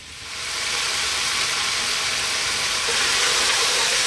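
Tomatoes and stew ingredients for a lamb and potato stew cook in a large pot over maximum heat, giving a steady, fairly loud broadband sizzle and hiss that holds even for the whole stretch with no talking.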